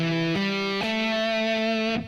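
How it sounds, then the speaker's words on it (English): Electric guitar notes sliding quickly up the neck in three steps, each slide gliding into a sustained, bright tone before cutting off. "I can play some slides which will sound like this"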